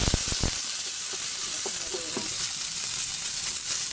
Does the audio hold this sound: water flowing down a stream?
no